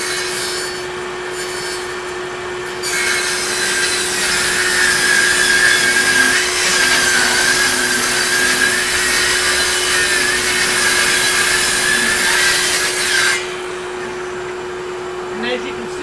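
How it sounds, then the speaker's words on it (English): A Ryobi circular saw with dust collection running rips through plywood, its whine joined by a steady vacuum-like hum, the cut rising in intensity for about ten seconds before easing off, alone and close. "So, turn the dust collection on, and let's do a cut on this line."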